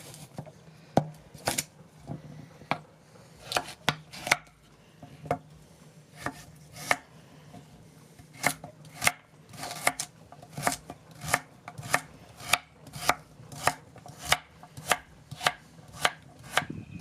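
A carrot being chopped into cubes with a knife on a cutting board, giving a steady series of crisp, close chops that speed into a regular rhythm, with no one talking.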